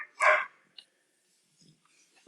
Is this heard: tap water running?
no